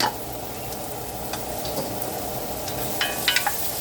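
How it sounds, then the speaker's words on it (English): Garlic sautés in a hot pan before onion and ginger are added, giving a steady, close sizzle with a few small pops and crackles near the end. "So I'm sauteing the garlic, and then I'm going to add the onion and the ginger"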